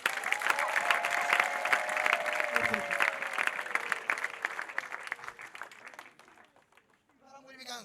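A church congregation claps together for Jesus after a prayer, dense rapid applause that slowly fades out while a voice carries over it.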